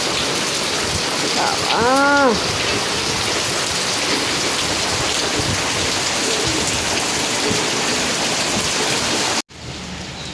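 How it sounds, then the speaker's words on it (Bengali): Heavy monsoon rain pours down in a dense, loud, continuous roar close by, with a short rising tone near the start and an abrupt cut near the end; a voice speaks briefly. "তোমাদেরকে দেখাচ্ছিলাম যে বৃষ্টি শুরু হয়ে গেছে, আর কতটা পরিমাণে বৃষ্টি হয়েছে দেখো"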